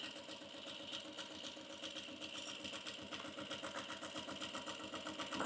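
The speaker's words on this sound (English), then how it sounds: "Make sure I backstitch, and the same thing, about 1/2 inch seam allowance all the way across." A sewing machine stitches and backstitches a long seam on a bag, a steady close mechanical whir with a rapid even needle patter running throughout, no talking over it.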